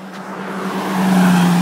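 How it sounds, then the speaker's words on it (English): A car drives past on a mountain road, its engine a steady hum that grows louder and closer across the stretch with no talk. "now that the car's passed"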